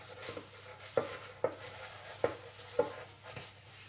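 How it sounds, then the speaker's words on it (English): A buttered napkin is rubbed over a baking tray, making a run of short, crisp scrubbing strokes at an uneven rhythm, close and fairly soft, over a quiet kitchen background. "Just gonna be put a piece of a napkin and just rub it out like this."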